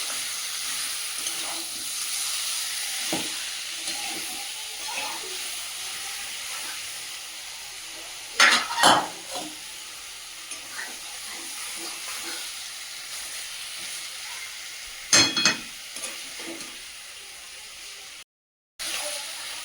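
Meat sautéing in a pan on a gas stove with capsicum, giving a continuous soft sizzle and hiss with a few sharper crackling bursts of stirring. No one speaks.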